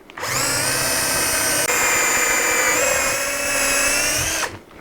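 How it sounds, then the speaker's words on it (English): An electric drill whines steadily at high speed, boring into wood for several seconds, close and loud, then spins down. "I'll now continue that hole using a conventional drill right down the middle of that point."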